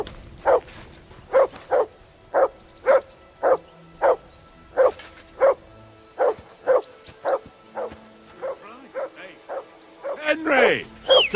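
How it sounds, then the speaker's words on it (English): A dog barks repeatedly in a game scene from Kingdom Come II, sharp regular barks roughly every half second, close and loud, turning into yips and whimpers near the end over faint background ambience. "Call off that damn dog before he wolfs down the last of our mates."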